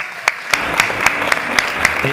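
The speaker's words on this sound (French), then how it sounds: "Je crois qu'on peut les applaudir." A small festival audience at a chef's cooking masterclass claps for the kitchen brigade, a slow, even run of about eight distinct claps standing out over a dense, steady background of clapping.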